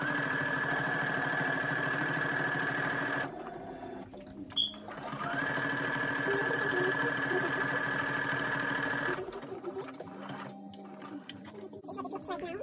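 A sewing machine stitches cotton shirt fabric for a face mask in two steady, whirring runs, close and fairly quiet, separated by a short pause with a soft click.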